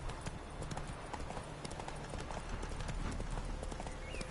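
Roach the horse from The Witcher 3 trots with a dense, even clip-clop of hooves, close and steady throughout against a busy ambient backdrop.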